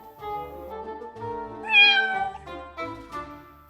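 A cat named Biskvit meows in several drawn-out, rising and falling calls with a tonal, harmonic quality, up close and loud, and no one talks over it.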